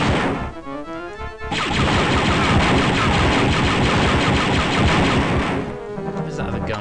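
Rapid, loud gunfire bursts in the Star Wars Dark Forces shooter game, a dense stream of shots sustained for several seconds after a brief lull, with game effects at the start and end.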